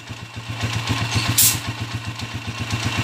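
A Honda TMX155 motorcycle engine, Mulawin model, idles steadily close by with an even, rapid low thumping pulse throughout, plus a brief hiss partway through.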